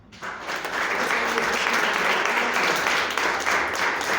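A church congregation breaks into applause for the Lord, building quickly into a loud, sustained wash of clapping that holds steady throughout.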